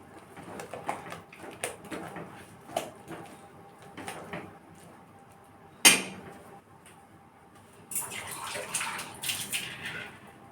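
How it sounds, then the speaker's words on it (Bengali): Water poured into a pan of cooking bottle gourd with chickpea lentils, a brief splash followed by a longer bubbling, gurgling stream near the end, alongside scattered light clinks and faint kitchen sounds. "আমি এর মধ্যে একটু জলও দিয়ে দিলাম"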